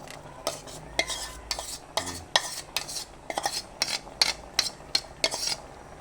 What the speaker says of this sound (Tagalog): lagyan na po natin yung unang piga ng gata